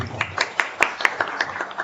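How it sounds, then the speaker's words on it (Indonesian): At a small business finance seminar, a modest audience claps in distinct, evenly spaced claps, sparse and fairly close rather than a full roar. "Oke, tepuk tangan dulu."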